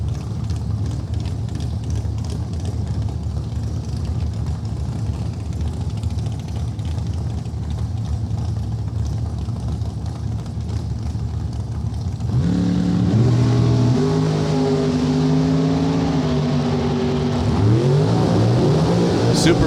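A Super Pro drag racing dragster on a Miller chassis, engine droning steadily in the distance, then a louder, closer rising rev with strong harmonic tones that swells again near the end, under faint crowd and track noise.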